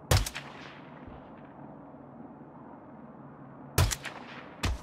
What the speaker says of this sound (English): These are some pretty far shots that we're doing here.